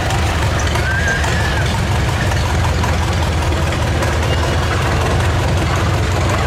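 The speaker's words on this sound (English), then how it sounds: "Farmall is H model, built 1950, rated at 26 horsepower" A 1950 Farmall H tractor, rated at 26 horsepower, idling at an outdoor steam power show, giving a steady low engine rumble with constant loudness and no talk over it.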